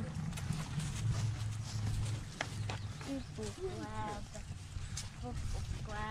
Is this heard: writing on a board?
no